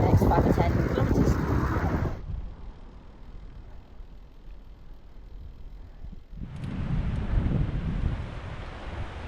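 Strong wind rushes past a bicycle on a mountain road in the Pyrenees, buffeting loudly for a couple of seconds, easing to a softer, steady roar, then gusting hard again near the end.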